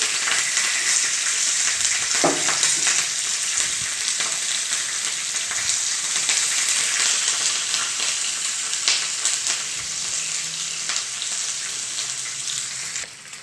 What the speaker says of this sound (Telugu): మిర్చి గోలిస్తున్నాను